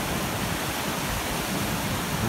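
A rising creek on a farm flows steadily, giving a continuous broadband rush of water with no voices.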